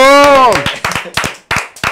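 Scattered handclaps from a small television studio audience on a talk show, a few sharp, separate claps following a brief voice at the start.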